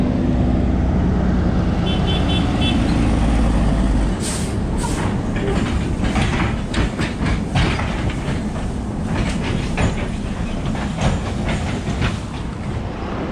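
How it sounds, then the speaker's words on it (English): A long sugar cane road train rumbles past nearby in Cali, Colombia, with steady clattering and rattling, a continuous heavy roll with scattered metallic clanks. "They call it a sugar cane train."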